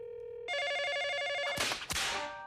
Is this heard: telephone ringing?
yes